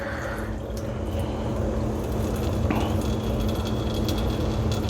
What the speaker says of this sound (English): I'm just going to dump the water out as carefully as I can.